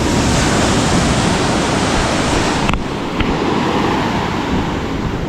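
Stormy sea surf pounding a shore near a beach hut: a loud, continuous roar of breaking waves mixed with wind noise, steady throughout with no voices.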